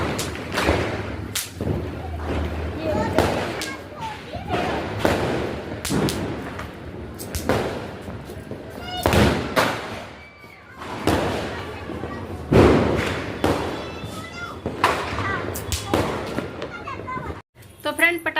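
Diwali firecrackers burst outdoors at night: repeated sharp bangs and dull thumps at irregular intervals, some close and loud, with people talking throughout.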